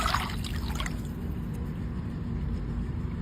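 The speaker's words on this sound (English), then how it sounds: "let me move the water a little bit" Water sloshes and trickles briefly at the start, then fades into a faint, steady background hiss.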